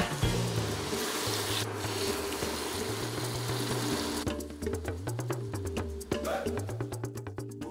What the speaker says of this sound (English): I'm going to add my skewers onto the hot grill. Allow them to cook and caramelize.